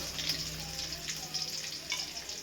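Whole spices spluttering in hot oil, a close, bright crackling sizzle with sharp little pops scattered across a short burst, no speech over it.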